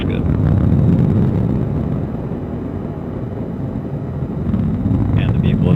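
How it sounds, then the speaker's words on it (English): An Atlas V rocket's RD-180 engine roars in flight as the rocket climbs after launch, a steady, dense low rumble with a crackling texture, heard continuously from a distance while a voice talks over it. "the RD-180 is now throttling down as expected"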